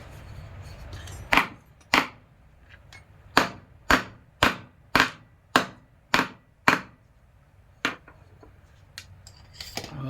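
A hammer strikes a piece of metal about ten times in an uneven rhythm, each blow a sharp, close, ringing crack with a quick decay, the strikes spaced roughly half a second to a second apart and set against a quiet background.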